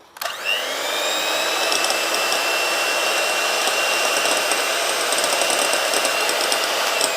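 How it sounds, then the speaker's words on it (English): Electric hand mixer on its lowest speed whisking egg whites for an almond cake, a steady continuous motor whir with a bright whine that holds level throughout, close and fairly loud with no talking. "So I'll start with very minimal speed, and that is the first number, and I'll try to whisk the egg white now."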